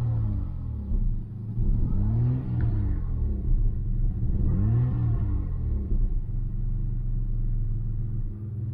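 A rough-running Citroën XM V6 engine sputters and stumbles, with two clear revving swells rising over a continuous low rumble, close and loud throughout.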